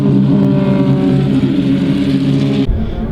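Formula Vee race cars at Kirkistown circuit roar steadily at close range with a loud, continuous engine drone that cuts off abruptly near the end.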